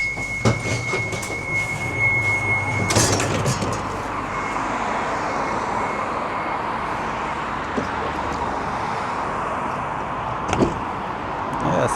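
Blackpool tram 003 on Burlington Road West, heading towards Stargate: a loud rumbling ride with a door-chime tone and door thump early on, then steady rolling rail noise and a sharp clank near the end.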